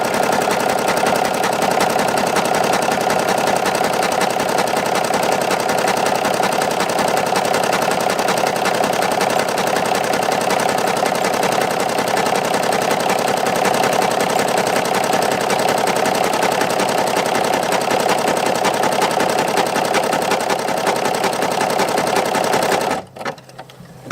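An embroidery machine sews a satin stitch, a steady rapid mechanical rattle that runs loud and unbroken before cutting off abruptly near the end, with no talking.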